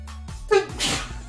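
One sharp, close sneeze from a person, a quick intake then an explosive burst, with a faint voice around it.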